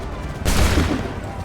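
Musket volley in Assassin's Creed 3: a single dense, booming crash of many muskets fired together, loud and close, with a rumbling tail fading over a second.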